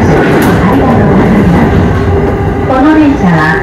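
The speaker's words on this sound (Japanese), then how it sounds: "この電車は地下鉄東西線直通快速津田沼行きです" Inside a JR rapid train bound for Tsudanuma that runs through onto the Tozai subway line, a loud steady rumble of wheels and car noise under a spoken onboard announcement.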